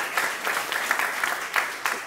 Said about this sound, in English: we owe these four gentlemen a round of applause